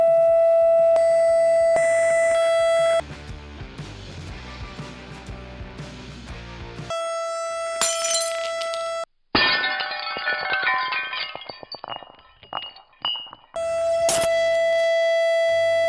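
A steady pure tone at 664 Hz plays loudly from speakers aimed at a drinking glass, cut off and restarted several times, with bursts of clattering, ringing noise between the tones.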